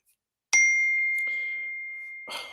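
A phone notification chimes once with a clear, bright ding that rings out and slowly fades, followed by a faint rustle.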